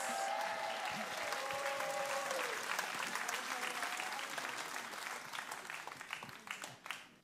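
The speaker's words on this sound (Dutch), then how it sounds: "geef ze een groot applaus, de topzangers van Singing Pelamaas" Audience applause for the singers at a televised Dutch singing show, dense clapping from a crowd that starts full and gradually thins and fades toward the end, with a faint sustained tone and some voices underneath at first.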